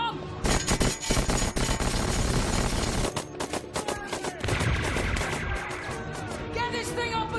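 Cartoon gunfire hammering against armor plating, a dense rapid volley of loud cracks and clanks running for several seconds with a brief lull midway, and voices shouting over the din.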